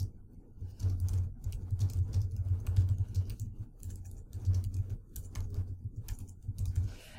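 Computer keyboard typing, a quiet run of soft continuous key clicks with a low steady hum beneath, no speech.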